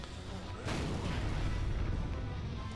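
A bomb block explodes in the puzzle game Catherine with a sudden, close boom that settles into a broad, sustained rumble lasting a couple of seconds.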